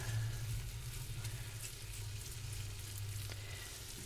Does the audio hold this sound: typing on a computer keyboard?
no